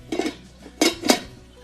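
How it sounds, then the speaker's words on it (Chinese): A metal lid is set onto a pot of water with chopped white radish in a kitchen, giving a few close, bright clinks and clatters: one short rattle, then two sharper knocks about a quarter second apart. "盖上盖子给它煮开。"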